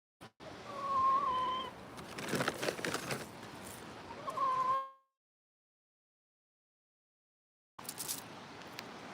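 Chickens cluck close by in a backyard, soft murmuring calls mixed with rustling and handling noise, then a stretch of silence before the rustling resumes.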